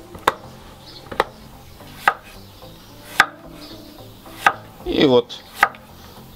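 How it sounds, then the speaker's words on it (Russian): A knife chops through zucchini on a cutting board in six or seven crisp, evenly spaced thuds, close and clear, with a quick spoken phrase slipped in between cuts. "Режем весь кабачок."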